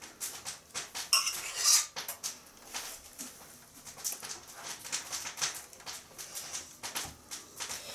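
A utensil presses stuffing down into a squash with soft scraping, tapping and clinking against the dish, in close, irregular bursts of small sounds.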